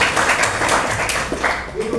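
A crowd applauding at a teacher education program ceremony, steady dense clapping that holds loud for two seconds and thins slightly toward the end, with faint voices mixed in.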